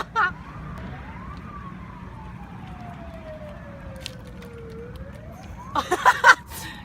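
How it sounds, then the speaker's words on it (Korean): An ambulance siren wails in the distance with a slow rising and falling tone, joined near the end by brief nearby clattering. "근데 경찰차 소리가 아니고 그냥 구급차 네."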